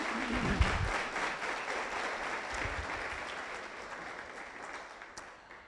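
A church congregation at a family service applauds with a sustained, even wash of clapping from many hands that slowly fades, heard at a moderate distance, with a brief low voice near the start.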